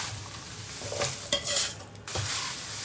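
Roasted ingredients for moringa spice powder being stirred in a pan, a spoon scraping and knocking against the metal in uneven strokes, with a faint sizzle underneath.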